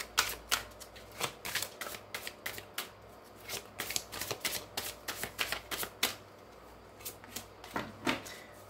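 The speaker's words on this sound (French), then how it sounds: "on va remélanger un petit peu." Tarot cards being reshuffled by hand in quiet, irregular bursts of crisp riffling and slapping, close up with no talking.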